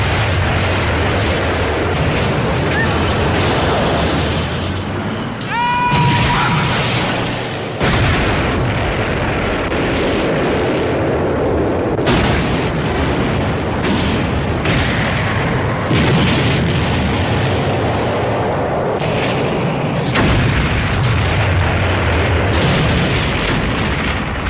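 Loud, dense explosions and blasts from the 1996 action movie DNA fill the scene, a continuous roar of booms with repeated sharp bursts and a brief pitched whistle early on.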